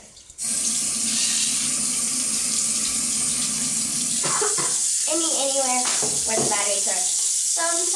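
A tap runs steadily and loudly in a sink while a Spinbrush toothbrush is rinsed under it, and a voice talks over the rushing water partway through.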